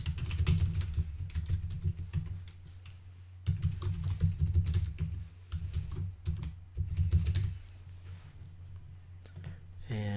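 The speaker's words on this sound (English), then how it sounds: "we'll type in the administrator account and the password" Computer keyboard typing in bursts of quick, close clicks as an administrator account name and password are entered, with a steady low hum underneath and short pauses between the bursts.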